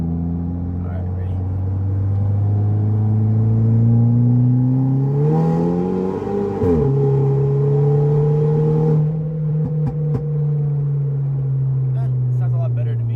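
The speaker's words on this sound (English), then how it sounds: "I don't know if you guys can hear the exhaust, but to me it sounds way more crisp" A car engine idles with a deep exhaust burble, revs up in a rising sweep, drops back, then settles into a steady low rumble.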